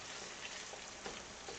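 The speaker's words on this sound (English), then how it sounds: "the water from the potatoes hitting the boiling oil" Potato pieces frying in a pan of hot oil for home fries, a steady close crackle and sizzle with a few sharper pops.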